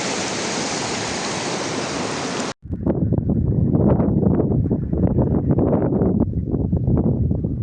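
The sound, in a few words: river flowing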